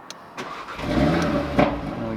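A BMW M140i engine cranks briefly, then catches and settles into a steady low rumble, close by and fairly loud.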